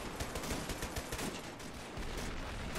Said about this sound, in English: We still have Ottomans up here firing back.